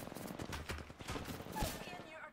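Rapid bursts of gunfire in Apex Legends crackle steadily through a short firefight, with a player talking over the shots.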